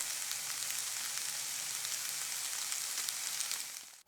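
Oyster mushrooms with onion sizzle in a frying pan, a steady, bright crackling hiss that holds evenly and then drops away abruptly at the end, with no voices.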